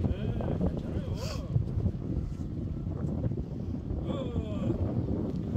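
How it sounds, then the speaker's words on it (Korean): Strong wind gusts buffet the microphone on a mountain summit, a dense low rumble that fills the whole clip while people talk nearby. "바람 세게 부네."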